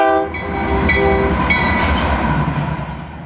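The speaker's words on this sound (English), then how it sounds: "This is a coal train moving through Glenwood Springs, Colorado." A coal freight train rolls through Glenwood Springs, Colorado, loud and close, with a sustained rumble of wagons and several blasts of a horn over the top.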